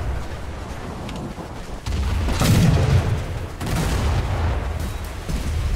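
A Tribal-class destroyer's naval guns fire in War Thunder, heavy low booms that arrive in a couple of blasts, each rising into a loud, rumbling surge over continuous engine and sea noise.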